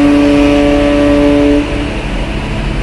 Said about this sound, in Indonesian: Kita lihat di lapangan parkir Dermaga Eksekutif khusus kendaraan besar.